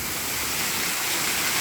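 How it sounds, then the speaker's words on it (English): A big waterfall in the Tennessee mountains near Pigeon Forge and Gatlinburg roars as a close, loud, unbroken rush of falling water with no voices. "a pretty big waterfall."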